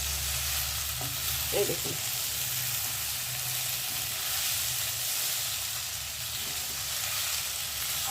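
Kohlrabi sautéing in a pan, a steady, close, fairly loud sizzle running throughout, with a brief spoken remark near the start.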